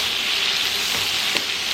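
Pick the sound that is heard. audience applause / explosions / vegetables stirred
vegetables stirred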